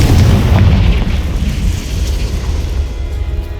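A Confringo fire spell blast bursting in Hogwarts Legacy, a loud, heavy booming explosion that starts strong and rumbles on, slowly fading over a few seconds.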